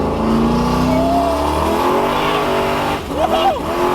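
A turbocharged Camaro accelerates in second gear, its engine revving loudly and climbing steadily in pitch before a shift-like dip near the end, with voices faintly over the cabin roar.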